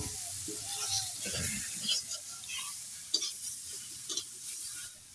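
Fish curry from a freshly caught Sundarbans pond fish, cooked village-style, is stirred in a pan outdoors, with soft scraping and a steady faint sizzle running through. Occasional sharper clinks come from the spoon against the pan.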